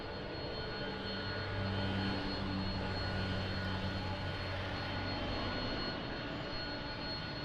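An American Airlines Boeing 787 jet taxis at Lisbon Airport, its engines giving a steady, distant whine and broad roar with no break.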